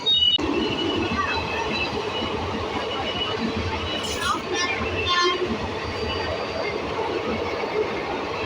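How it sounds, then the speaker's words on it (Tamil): An express train passes close by, a loud continuous rumble and rattle of wheels and carriages, with brief horn-like tones partway through and voices faint underneath. "இங்கே பாருங்க ஒரு எக்ஸ்பிரஸ்"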